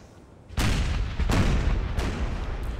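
Howitzer artillery booms in Napoleonic: Total War III, four heavy broadband blasts about once every 0.7 seconds, each loud and near with a long rumbling tail that overlaps the next shot. No voices.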